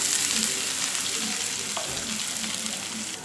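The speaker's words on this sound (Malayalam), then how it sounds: "ഈ നാളികേരം നന്നായിട്ട് ബ്രൗൺ ആവണ വരെ വറുത്തെടുക്കണം" A steady, soft sizzle of grated coconut frying in a pan on low flame until brown, with occasional stirring scrapes throughout.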